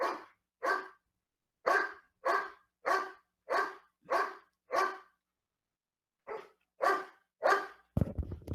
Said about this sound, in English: I guess the dog will not stop from barking.